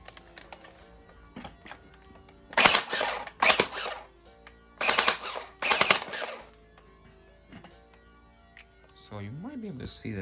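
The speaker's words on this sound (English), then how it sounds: "I'm gonna just let it go on full auto." Airsoft AEG on full auto firing BBs into a chronograph: several dense bursts of rapid mechanical clatter, loud and close, separated by short pauses, with light handling noise around them.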